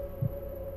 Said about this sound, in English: You got a heartbeat again.